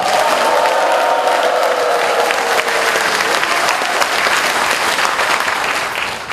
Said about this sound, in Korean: 우리 당원들께 커다란 박수와 함성으로 환호해 주시길 부탁드립니다